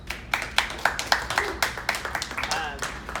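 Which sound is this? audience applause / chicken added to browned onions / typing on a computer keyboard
audience applause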